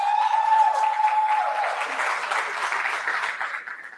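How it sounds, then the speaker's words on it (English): A workshop audience claps in a dense round of applause that starts full and gradually thins and fades over a few seconds. "Give Hetty another round of applause."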